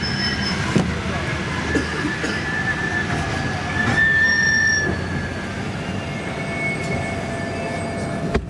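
Old Paris Metro train running near Cambronne station: continuous rumbling wheels with clanks and sustained high metallic wheel squeals, heard from on board under a faint voice.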